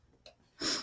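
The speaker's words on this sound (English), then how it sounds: "Forgive my sniffling." A person sniffles at close range: a quick faint sniff, then a longer, louder breathy inhale through the nose, alone in a quiet room.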